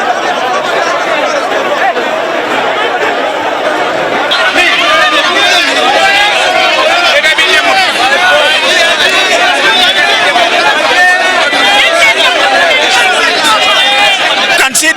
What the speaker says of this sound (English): the crowd has come and they have come all the way to the bridge now